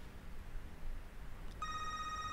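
A telephone starts ringing partway through, a steady electronic trill that begins suddenly over a low, quiet room hum, with no talk.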